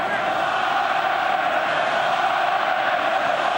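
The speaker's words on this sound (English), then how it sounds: "Up goes the cry from the crowd again" A stadium crowd roars steadily at an Ireland versus Wales Rugby World Cup match, a dense, loud, sustained wall of cheering voices with no breaks.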